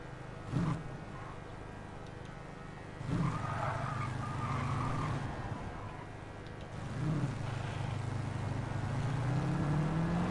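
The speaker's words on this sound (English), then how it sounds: "Listen to the fan." Chaparral 2J fan car in Gran Turismo 7, a faint engine note swelling and falling in several surges with a rising whine as it accelerates, distant and low in level.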